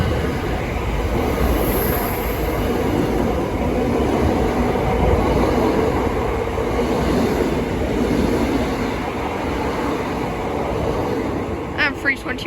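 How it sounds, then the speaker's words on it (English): A Greater Anglia train bound from London Liverpool Street to Southend Victoria rumbles steadily through Bethnal Green station, a continuous loud roar of wheels and carriages that holds throughout, with a few sharp metallic clicks near the end. "The next train to pass by is going to be a Greater Anglia service from London Liverpool Street to Southend Victoria"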